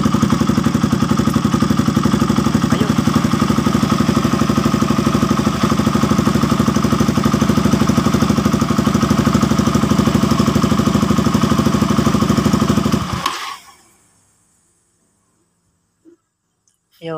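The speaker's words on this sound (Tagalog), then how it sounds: "kapag binuhay natin yung makina" A KTM RC200 motorcycle engine idles with its dual radiator fan whirring, a loud steady running drone that cuts out abruptly near the end, leaving near silence.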